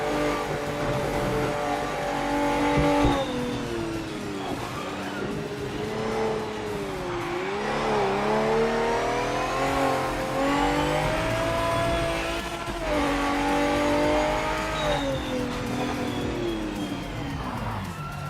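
Continuous loud engine roar of a race car in the Project Motor Racing sim, revving up and down through repeated rising sweeps as it accelerates and shifts, with occasional tire scrubbing.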